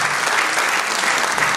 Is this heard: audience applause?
yes